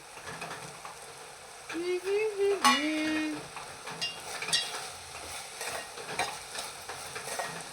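Sweet poha stirred in a pan with roasted cashews and peanuts, soft frying sizzle with scraping and clinking of a spoon against the pan, a brief whistle-like tone rising and falling in the middle.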